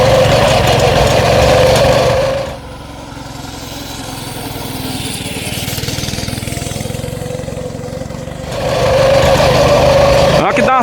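A 212cc engine on a motorized pusher bike revs loudly, drops to a lower, strained drone for several seconds climbing a hill, then revs up again, buzzing and close.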